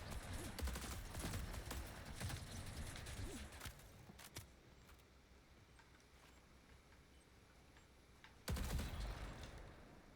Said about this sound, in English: Pretty sure that was a sentry gun.